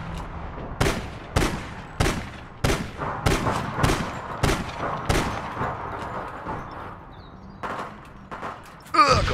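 Gunfire in the online shooter APB Reloaded, a string of about eight sharp, loud shots at uneven intervals over a steady game background, with a final burst at the end.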